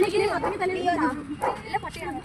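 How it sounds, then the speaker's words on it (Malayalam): A dog at a house yips and whines in short excited bursts, mixed closely with people talking over it. "ഇവിടെ പട്ടിയുണ്ട്"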